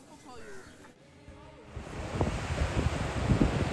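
Surf on a wide beach in Salalah, Oman rumbles and washes in steadily against rocks, growing louder after a quiet start, with wind buffeting the microphone; a voice is briefly heard at the beginning.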